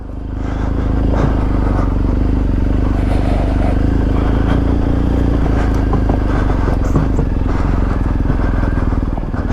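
A BMW M 1000 RR superbike ridden through the woods, its engine a loud, continuous, close drone under steady throttle with scattered clatter and scraping from the trail.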